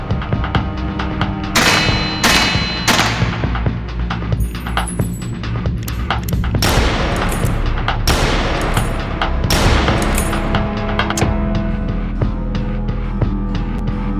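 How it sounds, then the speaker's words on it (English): Repeated gunfire in the video game Kathy Rain 2, sharp loud cracks in irregular bursts over a dense, continuous background of game sound and music. "He's shooting in this direction."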